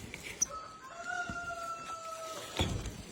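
Outdoors on a farm, a rooster lets out one long, drawn-out crow at moderate distance, quiet and alone against a soft ambient hiss, with a few faint clicks around it.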